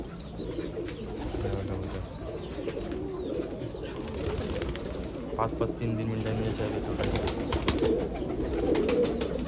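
Gauran pigeons, thirty to forty years old, coo in a Nashik loft, their low rolling calls repeating steadily beneath someone talking.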